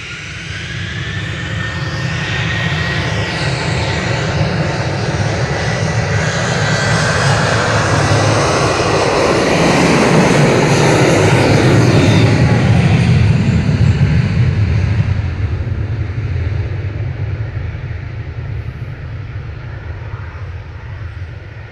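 Jet2 Boeing 737-800 taking off from Manchester Airport, a loud jet roar that swells to a peak midway and then fades as it climbs away, a clear Doppler sweep, with no voices.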